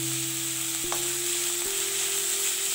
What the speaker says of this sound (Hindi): अच्छे से फ्राई करेंगे। नमक भी डालेंगे थोड़ा सा, ताकि हमारा कांदा जो है जल्दी से फ्राई हो जाए।